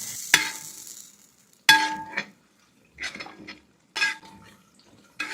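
Cooked mutton stirred into a masala in a pan: several close, separate scraping strokes of a spoon against the pan over a soft sizzle, with short quiet gaps between them and no talking.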